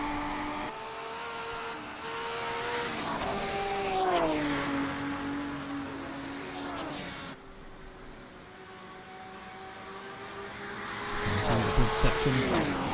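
Group 5 racing cars of the 1970s and 80s accelerating around the Zandvoort circuit, with engine tones climbing and falling as they power through the corners, loud and sustained, and a voice speaking over them.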